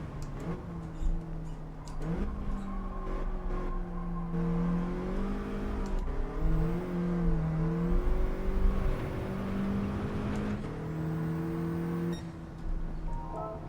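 A Volkswagen Scirocco engine in the Gran Turismo 7 racing game, holding a steady droning whine that rises and dips in pitch as the car accelerates and shifts through a license test run, with no talking.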